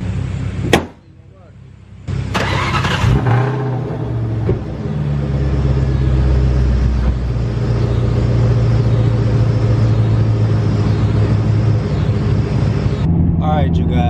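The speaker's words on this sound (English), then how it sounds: "now I'm about to take it for a little drive," A Ford Mustang Cobra pulls away and drives, its engine note climbing and holding steady close by after a short pause at the start, with some cabin noise.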